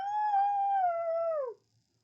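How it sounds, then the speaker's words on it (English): A single long, mournful wolf howl holds a steady pitch, then drops away at the end, clear and alone against silence. "There was a howl,"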